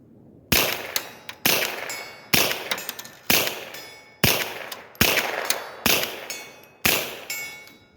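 Eight evenly spaced .22 Long Rifle shots through a linear compensator muzzle brake, each sharp crack followed by a ringing metallic clang from a steel target about 75 yards away.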